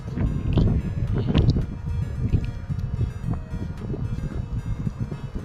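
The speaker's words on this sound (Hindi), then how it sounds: "तूफान जैसा हवा चल रही है तेज़" Strong gusting wind outdoors on a morning in Dubai, a broad steady roar buffeting the microphone at close range, loudest in the opening seconds and continuing without letup.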